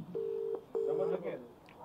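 Two steady electronic telephone tones sound as a number is dialed on a phone, the first about half a second long and the second slightly longer, close and clear, followed by faint background noise.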